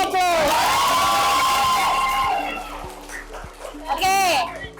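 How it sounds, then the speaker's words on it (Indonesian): Students in a classroom cheer, whoop and clap for the quiz winners, a loud burst of young voices with a few scattered claps, fading and then rising again briefly. "Kasih aplaus."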